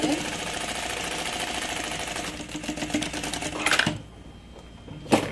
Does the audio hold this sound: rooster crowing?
no